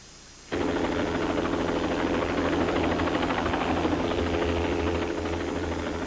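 A rescue helicopter starts abruptly after a short quiet moment near a house's front yard, then its loud steady rotor thrum and engine whine continue unbroken.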